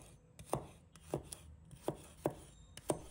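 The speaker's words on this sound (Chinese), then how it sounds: "几瓣大蒜，把它们切成小块。" Garlic cloves are cut into small pieces with a knife, giving a handful of crisp, close taps at a slightly uneven pace over quiet background.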